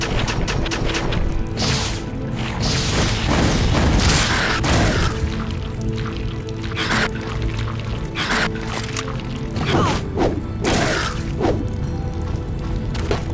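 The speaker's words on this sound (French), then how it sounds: "Munitions explosives." Explosive munitions blasts in the Alien Syndrome video game, a dense run of repeated loud crashing bursts over a steady game soundtrack, with no voices.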